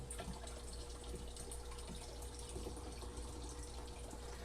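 Tap water runs steadily into a container during saltwater aquarium setup, a constant close splashing rush without pauses or talk.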